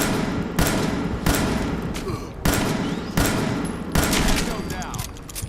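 Heavy gunfire in a first-person video game, with loud, close, booming shots spaced about a second apart, each decaying into a noisy tail, and someone talking in between.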